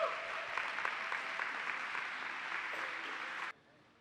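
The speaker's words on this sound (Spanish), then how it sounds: "Dale ese aplauso fuerte al Señor." Steady applause from a sizeable church congregation, loud and sustained, cutting off abruptly near the end.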